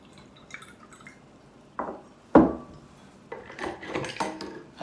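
Water poured into a glass during a home water demonstration, heard as a few short splashes and clinks of glass, with quieter drips and handling clatter before and after.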